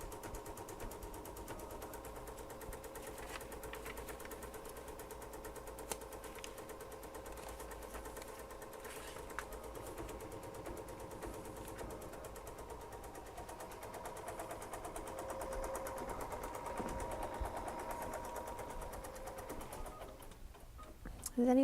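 An embroidery machine stitches a quilting pattern in the hoop, a steady fast mechanical ticking and whirring that runs continuously and evenly throughout, with a brief clatter near the end.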